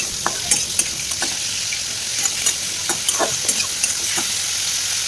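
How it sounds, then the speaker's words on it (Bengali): Rohu fish pieces fry in a pan with a loud, continuous sizzle, punctuated by scattered sharp crackles and pops and no voices. "আমাদের এদিকে কিন্তু মাছ ভাজাটাও অলমোস্ট কমপ্লিট"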